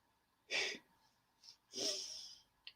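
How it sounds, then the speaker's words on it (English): A person breathes in and out slowly during a guided breathing exercise: two long, airy, slightly wheezy breaths up close, with a soft short exhale between them and a brief puff at the end. "Yeah, breathing again,"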